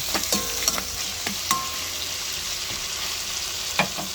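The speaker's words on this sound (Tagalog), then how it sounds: "Sangkutsahin muna natin, no? Para mas lalong sumarap ang ating adobong liempo with buto-buto konti" Pork belly with a few bits of bone searing for adobo, sizzling steadily in a pan with occasional clinks of stirring, near and fairly loud with no talk.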